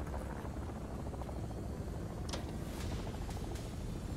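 A helicopter drones steadily in the background of a Call of Duty: Modern Warfare 3 level, a constant rotor rumble and hiss that stays even throughout, with a few faint clicks near the end.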